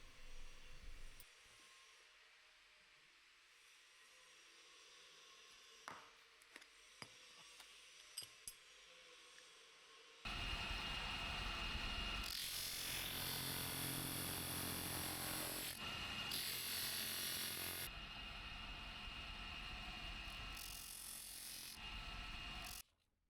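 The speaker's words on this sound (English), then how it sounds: "And then grinding all the sides to a much more smooth finish." Brass castings ground smooth along their sides: a stretch of quiet with a few light handling clicks gives way to a loud, steady, harsh grinding roar that runs unbroken for about thirteen seconds before stopping.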